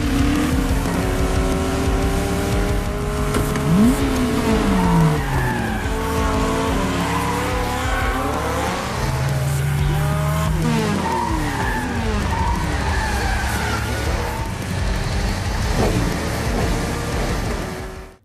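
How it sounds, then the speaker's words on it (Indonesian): Race cars, including a Nissan 240SX, launch into a downhill race with screeching tires and revving engines, loud overlapping skids and rising engine whines filling the whole stretch. "Kemudian setelah para pembalap bersiap, akhirnya balapan itu pun dimulai."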